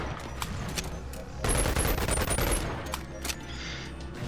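Uzi submachine gun fires in a melee-versus-ranged weapons video game, a dense rapid burst of shots in the middle flanked by scattered single cracks, loud and close.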